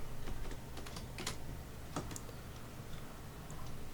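Keyboard shortcuts are typed on a computer keyboard, producing quiet, irregular clicks and key taps close by with no talk.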